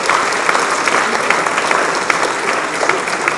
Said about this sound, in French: on peut applaudir le cap